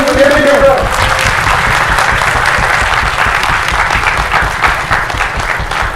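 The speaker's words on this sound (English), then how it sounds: "A big round of applause to the doctors, obstetricians, and nurses." Big round of applause at a medical conference on healthcare, loud sustained clapping from a full audience, a brief voice at the start before the hands take over.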